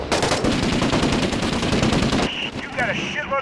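Sustained machine gun fire in the combat video game Six Days in Fallujah, a loud rapid burst of rattling shots lasting about two seconds, then scattered echoing gunfire with voices talking underneath.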